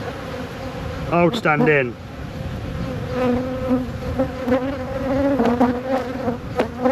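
Honeybees drone in a steady buzz over an open hive with the queen on the frame, the hum close and continuous while a person speaks briefly over it.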